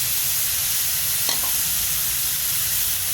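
Vegetables and mushrooms stir-frying in a pan, a loud continuous sizzle close by with a brief clack of a utensil partway through, no voices.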